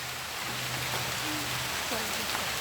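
Steady rain falls outdoors during an evening of shellfish gathering in water, a dense continuous hiss of drops with faint background tones and no pause.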